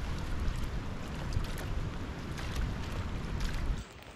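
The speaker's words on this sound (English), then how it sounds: "we're paddling into a headwind" A boat is paddled across a Scottish loch in winter against a headwind, with a steady rush of wind and water washing along the hull and soft splashes, close and continuous until it briefly quiets at the end.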